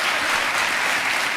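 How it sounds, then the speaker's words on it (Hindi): Steady, dense applause from a studio audience at a televised courtroom-style talk show, filling the whole moment evenly with no voices on top. "और ये तालियां बजते रहें"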